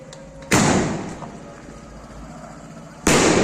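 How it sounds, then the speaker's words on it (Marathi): Two loud, sharp firecracker blasts go off outdoors during Diwali near a village temple ashram, the first one echoing away for a moment before the second bang follows a few seconds later. "आता इथे फटाके लावत आहेत"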